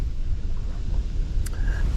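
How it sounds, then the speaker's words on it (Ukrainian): Strong westerly wind buffets the microphone outdoors on the floodplain waters of Cherkasy region during a spinning fishing trip, a steady low roar and rumble with a brief faint tone near the end. "Сильний вітер у нас, західний, по-моєму."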